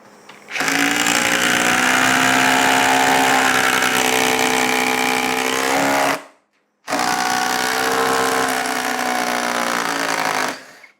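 Ryobi 18V brushless impact driver on a 3 amp hour battery sinking a 4.5-inch lag screw, two long loud bursts of rapid hammering whir with a short pause between them, no talking.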